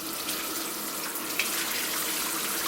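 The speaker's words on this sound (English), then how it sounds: "I'm going to wash this out and make sure that everything is gone" Water runs steadily from a kitchen tap to rinse out a nopales cactus pad during vegan curry prep, a continuous close hiss with a faint clink near the middle and no talking.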